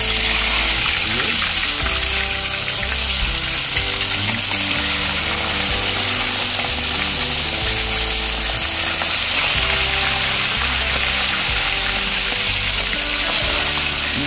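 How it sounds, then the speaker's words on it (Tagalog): Fish fries in a pan of hot oil with a loud, steady, continuous sizzle, accompanied by a tonal, music-like background throughout. "Iprito na po natin ito."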